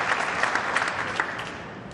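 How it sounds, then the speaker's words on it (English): Spectators at a pool match clap after a shot. The applause comes in one close, dense burst that holds steady for a couple of seconds, with no talking. "Crowd clapping every shot here."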